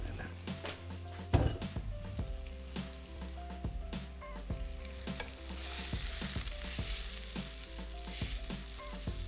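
Curd water poured into a hot kadhai sizzles and fries steadily while a spoon stirs and scrapes against the metal in frequent clanks, fairly quiet throughout.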